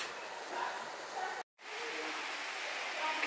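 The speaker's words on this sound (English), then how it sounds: "that rain on the roof." Steady rain drums on a roof as a constant close hiss that cuts out briefly once, with faint voices in the background.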